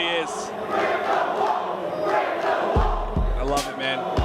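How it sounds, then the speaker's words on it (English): A large esports crowd at the Halo Infinite World Championship 2023 finals, OpTic versus SSG, roars and chants continuously in an arena, loud and dense, with a caster's voice talking over the noise. "It truly is a battle on the stage, a battle in the crowd."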